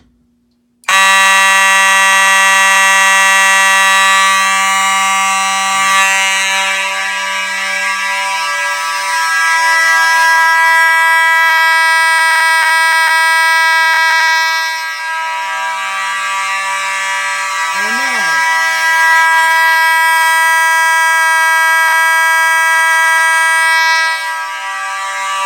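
Mechanical fire alarm horn on a home system test, blaring continuously at close range with a harsh buzzing drone that barely wavers for about twenty-five seconds, with no talking.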